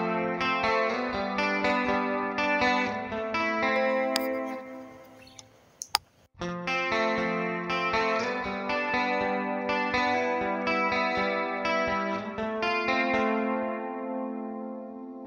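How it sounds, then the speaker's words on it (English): Electric guitar played through the detune effect of a Valeton GP200 multi-effects unit, a steady stream of shimmering, doubled notes with a slight chorus-like wobble, briefly broken by a click and a short gap before playing resumes. "that's how the detune works in Valeton GP200"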